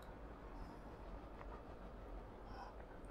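A steady, low rumbling drone of a train in a train yard from the Human Fall Flat video game runs evenly throughout with no breaks, and faint higher tones sound now and then.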